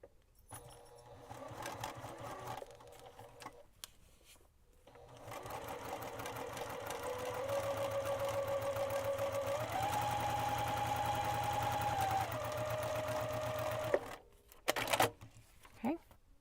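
A sewing machine stitches quilt pieces along a marked line. Its motor hums steadily for several seconds, rising slightly in pitch, then stops with a few clicks.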